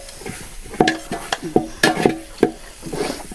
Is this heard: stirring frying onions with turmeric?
yes